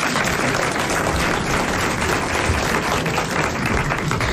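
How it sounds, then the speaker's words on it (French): Studio audience on a 1981 French television variety show breaks into sustained, dense applause, a steady wash of many hands clapping at close range with no talking over it. "Monsieur Castelli, que je vous demande d'applaudir."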